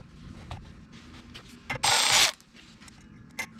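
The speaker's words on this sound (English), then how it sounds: "I'm going to take a 10 millimeter socket or wrench and unscrew" A 10 mm socket wrench works a nut loose on a mini bike, with scattered close clicks and clanks and a short burst of rapid ratcheting in the middle.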